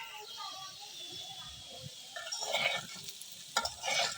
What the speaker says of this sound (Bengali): আলু ভাজতেছি।